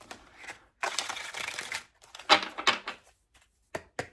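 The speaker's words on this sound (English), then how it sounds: "I do like the way they shuffle." Angel Answers oracle deck cards being shuffled: a sustained papery riffle of about a second, then a cluster of sharper card snaps and taps, and a couple of isolated clicks at the end, close up with no voices.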